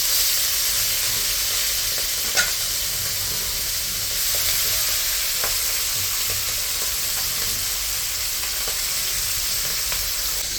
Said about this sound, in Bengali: মাছ ভাজা হয়ে গেছে, এখন নামাই নিতে আসছে, একটু একটু ভালো করে ভেজে নিচ্ছে লাল লাল করে